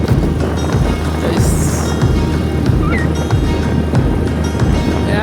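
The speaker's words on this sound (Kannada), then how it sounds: "ಸ್ಕೂಟಿ ಫುಲ್ ಲಡ ಅಂತಿದೆ, ಏನು ಮಾಡೋಕ್ಕಾಗಲ್ಲ" A scooter ridden slowly on a rural road rattles loudly as it goes, with a steady low engine throb and heavy wind buffeting the microphone throughout.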